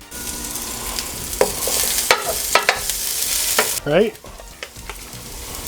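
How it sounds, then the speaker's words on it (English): Half an onion sweats in a pan over a medium flame, giving a low steady sizzle with scattered stirring scrapes and clicks throughout, while a voice briefly speaks over it. "I'm just gonna go in with some onions, because we just want to sweat them down"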